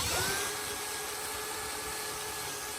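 A power grinder whines steadily while trimming a cow's hoof, a constant high motor tone with a slight pitch shift and a soft rushing noise underneath.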